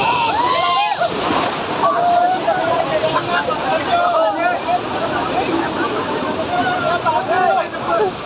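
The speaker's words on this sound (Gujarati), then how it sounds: "હા મોજા આવે મિત્રો." Sea waves breaking on the Dwarka shore give a continuous roaring wash of surf mixed with wind buffeting the microphone, loud and close, while people talk nearby.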